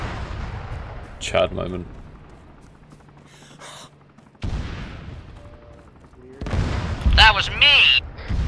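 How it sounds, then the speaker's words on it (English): Artillery fire in the military shooter Arma 3: heavy broadband booms and rumbling blasts land midway and near the end, mixed with gunfire, while several players talk and react over voice chat. "That was artillery! Yeah, that's arty."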